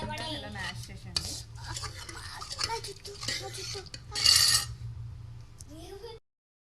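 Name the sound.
mashing cooked lentils (dal) in a pot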